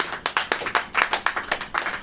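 Rhythmic clapping at a church service, sharp claps landing in an even quick beat about four per second, close and moderately loud, with no talk over them.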